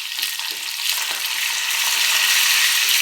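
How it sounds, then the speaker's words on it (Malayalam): Chopped garlic, curry leaves and crushed dried chili fry in oil for a pumpkin-leaf thoran, producing a loud, steady, close crackling sizzle with faint stirring. "ഈ സമയത്ത് ചെറുതായി മുറിച്ച വെളുത്തുള്ളി ഇട്ട് കരിവേപ്പില ഇട്ട് പിന്നെ വറ്റൽമുളക് ചതച്ച മിക്സിയുടെ ചെറിയ ജാറിൽ ചതച്ചതും ഇട്ട് നമുക്കിതൊന്ന് വറുത്തിടാം"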